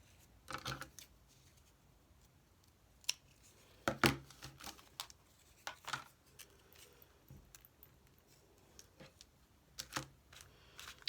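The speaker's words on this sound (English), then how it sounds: "Now I want to trim these corners off." Scissors trim the corners off a paper file folder, making quiet, sparse snips and paper crinkles scattered across the quiet stretch, with a few sharper cuts standing out.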